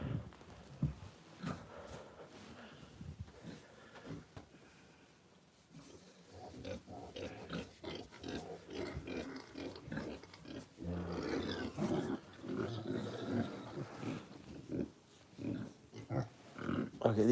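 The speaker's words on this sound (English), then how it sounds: "There's a lot of pigs in there." A crowd of pigs packed into a stall at night grunts, oinks and squeals continuously and close by, growing louder and busier toward the end, with no one talking.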